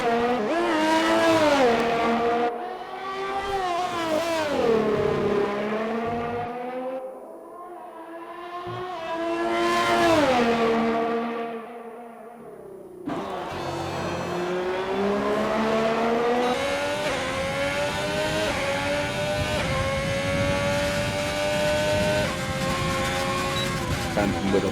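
A GP3 single-seater race car lapping the Canadian Grand Prix circuit, its engine screaming loud and close as it climbs through the gears, drops sharply on braking and downshifts, then surges again in repeated rising sweeps.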